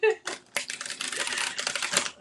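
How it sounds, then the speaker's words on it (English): Quick riffling bursts of cards being shuffled, close and crisp, several rapid flutters running together. "this deck is just so schmexy to shuffle."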